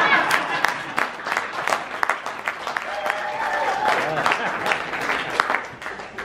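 An audience at a business networking lunch claps in a loose, uneven round, individual hand strikes audible through the crowd, with a voice briefly talking over the applause in the middle.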